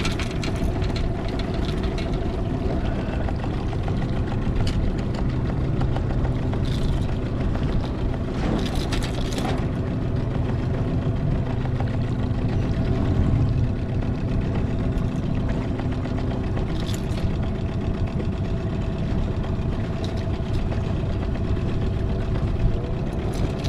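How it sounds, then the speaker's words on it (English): A fishing boat's engine idles steadily while trolling for tailor off Mandurah, a constant mid-pitched drone with a low hum, running alone and unbroken with faint passing clicks. "trying to keep the boat trolling."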